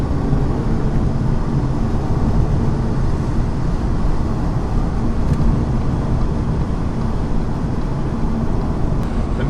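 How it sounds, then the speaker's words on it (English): A car joins a UK motorway from the slip road, its steady engine drone and road roar holding loud and constant inside the cabin with no speech. "we're approaching the motorway on the slip road, and this is 70 miles an hour"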